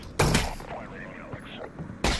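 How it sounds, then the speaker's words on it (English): Two loud broadband bursts of SMG fire from Half-Life: Alyx, one near the start and another at the end, with an echoing, rumbling stretch of game ambience between them. "SMG in the face"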